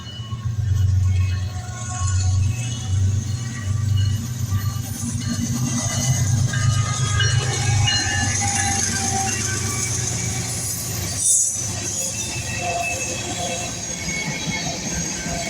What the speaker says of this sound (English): this being the BNSF westbound transfer 33G with a GEVO duo